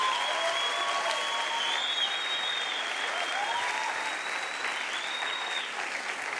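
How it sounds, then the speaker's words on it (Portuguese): A crowd at a Christian worship conference applauds the worship team, steady sustained clapping filling the whole stretch with faint voices and whistles mixed in. "Uma salva de palmas para a galera do louvor."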